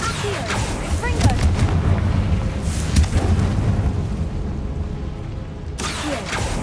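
Confringo blasting spells and spell effects boom and crackle through dense, continuous game audio in Hogwarts Legacy, with a voice talking over the layered bursts.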